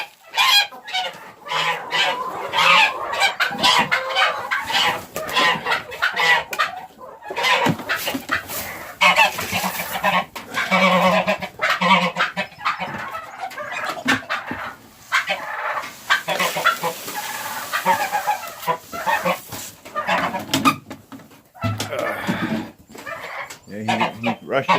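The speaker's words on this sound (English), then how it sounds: "There's Gary the Goose." Chickens cluck and a goose honks around a farmyard feeding spot in May snow, with turkeys nearby; irregular close calls and fowl chatter run throughout, with a person talking at times.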